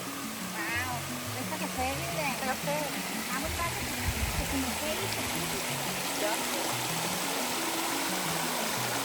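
Water flows steadily over the Krushuna waterfalls in Bulgaria, a continuous rushing wash with people talking over it.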